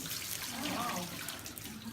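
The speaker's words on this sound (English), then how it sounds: "So I'm just going to pour some warm whey over it." Warm whey poured over curds during cheese making in Switzerland, a steady close liquid splashing and trickling that runs continuously for a couple of seconds with no talk.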